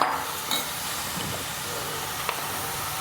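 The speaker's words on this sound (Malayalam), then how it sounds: "നമുക്ക് കക്ക ഇറച്ചി ഈ ചട്ടിയിലേക്ക് ഇട്ട് കൊടുക്കാം." Clam meat cooking in a pan gives a steady, quiet sizzle and hiss with a couple of brief stirring clinks, alone and without talk.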